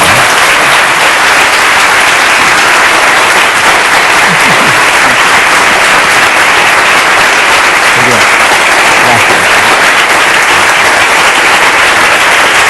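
Sustained, loud applause from a large audience honouring science prize winners at a university award ceremony, a thick continuous roar of clapping that stays steady throughout, with some voices underneath.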